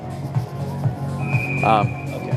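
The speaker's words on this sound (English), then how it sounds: "Referee blows the whistle" A referee's whistle shrills in one long steady blast at a youth ice hockey game between Pens Elite 2013 and Rochester Coalition, heard over rink noise and ongoing talk.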